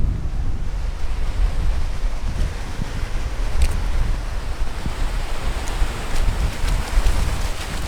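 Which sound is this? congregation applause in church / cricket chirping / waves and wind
waves and wind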